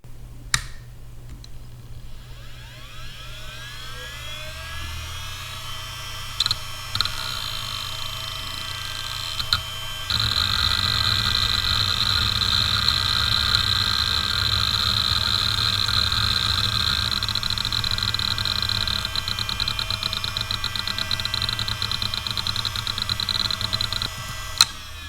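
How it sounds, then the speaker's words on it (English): An IBM DJNA-351520 hard drive spins up with a rising whine, then settles into a steady hum with fine, busy seek ticking while copying DOS games, heard close and alone. "Enjoy listening to the IBM DJNA 351520 spinning up, seeking, copying DOS games and spinning down."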